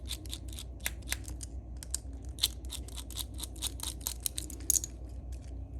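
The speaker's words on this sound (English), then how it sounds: "You want to back out both these Phillips head screws." Small Phillips head screws being backed out of the battery hatch on a Robo Alive robotic swimming turtle toy, heard as a close, quiet series of sharp clicks and ticks with an irregular rhythm.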